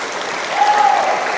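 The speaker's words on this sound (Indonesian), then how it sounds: "Tepuk tangan." Audience applause from a crowd, a steady dense patter of many hands clapping for a brief moment with a faint tone running through it.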